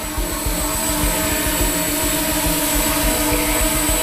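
A Yuneec Breeze drone hovers close by, giving off a loud, steady high-pitched whine and buzz from its propellers that holds level the whole time with no talking.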